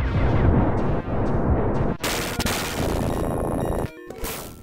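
Flamethrower effect from Judge Dredd on the Sega Genesis, a loud roaring noisy burst broken into chunky segments with sharp cutoffs, gritty and harsh throughout, with no speech.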